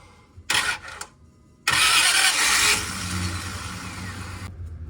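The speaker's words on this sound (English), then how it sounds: "let me try to start it" A 2003 Dodge Dakota V8 pickup with a newly replaced starter cranks in two short bursts, then catches and fires up, roaring loudly before settling into a steady, rumbling idle close by.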